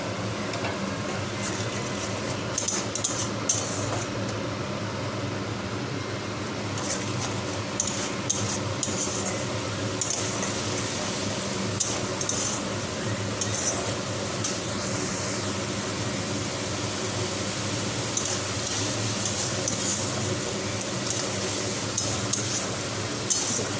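Sour yogurt being stirred into spiced food in a cooking pan in a home kitchen, with soft scraping and light clinks of a utensil against metal over a steady background hiss, close and continuous with no talk.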